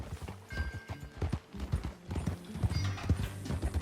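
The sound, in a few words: horse hooves clip-clopping, from a video game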